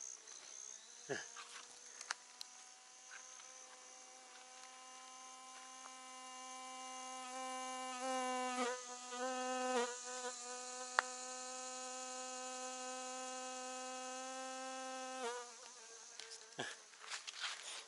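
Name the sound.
fly called the good news bee buzzing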